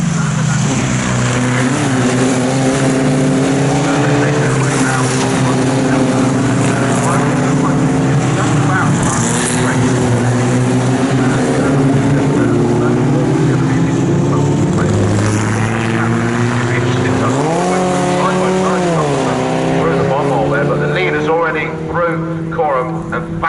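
Formula Vee race cars racing at Snetterton, with several engines buzzing and rising and falling in pitch as they shift and pass, heard continuously under race commentary.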